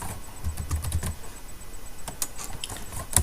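Quick keystrokes on a computer keyboard while entering Node.js commands, a run of light, fairly close clicks with a louder tap near the end, no voices over them.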